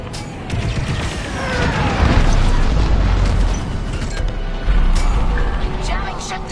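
A jamming ship being destroyed in a PS4 video game battle: heavy booming explosions and rumbling crashes with mechanical clatter that swell in waves, loud and close, with game voices mixed in.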